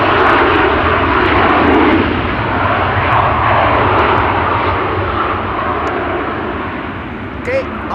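A Norwegian airliner in UNICEF livery at Amsterdam Schiphol produces a loud, close jet engine roar that slowly fades, with brief clicks and a chirp near the end.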